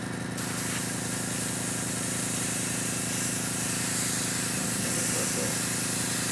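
Badger Stynylrez primer hisses steadily from an airbrush in a wide spray pattern, a continuous close airy rush with a faint voice murmuring near the end.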